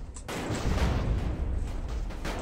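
An explosion booms in GTA San Andreas, a sudden loud, rumbling blast that rolls on with crackling debris for a couple of seconds.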